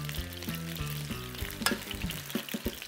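Lamb and vegetables sizzle and crackle steadily in a pan as broth goes in for a Spanish lamb stew, a close, continuous frying hiss with stirring and scraping knocks and no voices.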